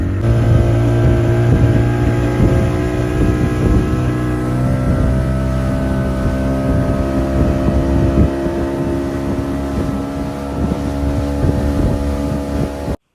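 Outboard-powered glass-bottom tourist boat crossing open sea to an island off Bali, a loud steady engine drone with wind buffeting the microphone throughout, no voices.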